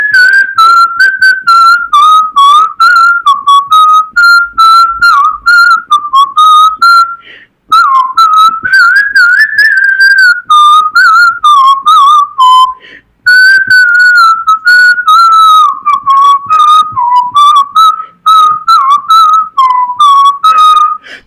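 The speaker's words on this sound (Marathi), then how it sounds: "मी शिट्टीतून गाणं म्हणून दाखवणार." Someone whistles a song solo, close and loud, with a clear, wavering melody carried in long phrases for about twenty seconds and broken only by two brief pauses for breath.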